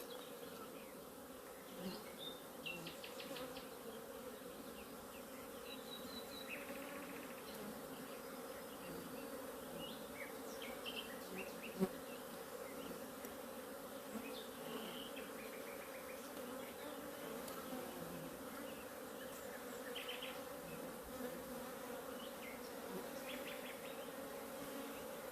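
Honey bees from an aggressive hive drone in a steady, dense buzz, with individual bees passing close and fading, continuous throughout without talk.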